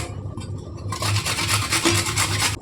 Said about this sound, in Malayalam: ഇനി ക്യാരറ്റ് ഒന്ന് ഗ്രേറ്റ് ചെയ്തെടുക്കുകയാണ് കേട്ടോ